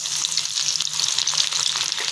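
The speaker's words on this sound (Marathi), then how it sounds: "मस्त अशी मोहरी तडतडायला लागली की त्याच्यामध्ये आपण लगेच लसूण टाकून घेऊया" Garlic and mustard seeds fry in hot oil, giving a steady, close, bright sizzle with light crackling and no voices.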